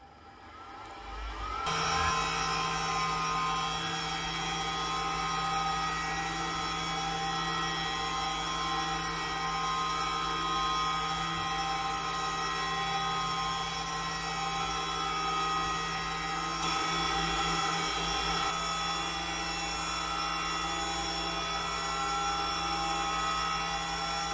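A pantograph milling machine spins a carbide end mill at 12,000 RPM, taking a 0.2 mm cut in titanium for screws. A steady, piercing high-pitched whine starts after a brief quiet moment and holds constant, close and loud, with no talk.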